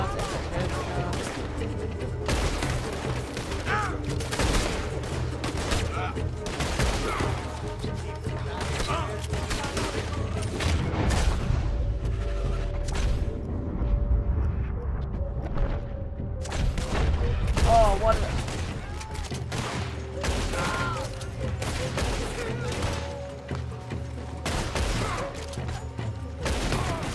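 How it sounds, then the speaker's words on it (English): Gunfire in the video game Red Dead Redemption: rapid, repeated sharp shots crack through continuously over a rumbling game soundscape, loud and dense throughout. "Shooting people."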